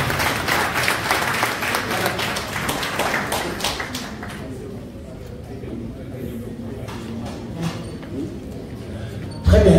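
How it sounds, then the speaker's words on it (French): An audience at a Senegalese literature event applauds the arrival of Ismaël Lo, a sustained wash of clapping that thins out toward the end under a speaking voice. "je ne peux pas m'empêcher de vous demander d'applaudir Ismaël Lo qui vient d'arriver"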